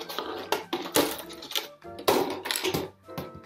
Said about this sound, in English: cut just a random square out of your bottle,